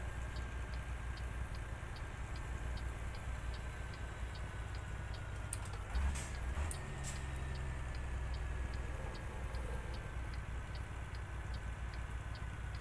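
A truck engine hums steadily in American Truck Simulator while rolling along with the windows down, a low continuous drone under a faint regular ticking, with a brief bump of louder noise midway.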